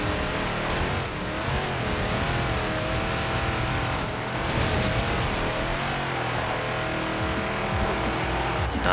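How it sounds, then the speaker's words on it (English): A stock 1973 Ford XB Falcon GT drifting in Forza Horizon 4, with a steady loud engine roar and layered harmonic drone, tyre squeal mixed in, continuous through a controlled slide. "Nice and controllable drift"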